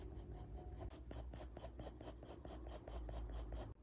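A pencil scratches rapid, even hair strokes on paper, a close, steady rhythm of short rasping lines repeating throughout.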